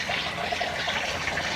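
Water drains through a bell siphon from an aquaponics tank, a steady gurgling trickle with a continuous liquid rush, close and moderately loud, with no voices over it.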